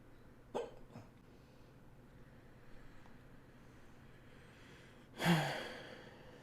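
Someone's hiccups, with two small jolts early on and a sharper, louder one near the end, all close by against a quiet background.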